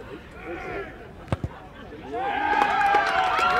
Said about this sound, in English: So as you can hear the crowd,